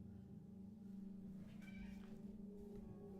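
A cat meows outside a door during a Higurashi let's play, a brief mewing cry in the middle of the clip over a steady low hum of game background music.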